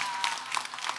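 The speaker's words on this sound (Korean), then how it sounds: "할렐루야 박수로 화답하겠습니다" A church congregation claps during a Sunday worship service, a brief, fairly faint patter of applause from the gathered crowd.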